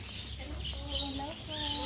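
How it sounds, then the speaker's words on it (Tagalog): Many birds call and chirp together at a spot in Bohol, a dense overlapping chorus of cheeps and clucks, with voices talking nearby. "Puro ibon pala dito."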